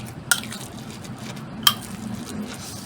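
A homemade meat mixture seasoned with black pepper is stirred in a bowl, giving a soft continuous scraping with two sharp clinks of a utensil against the rim, and nobody talks.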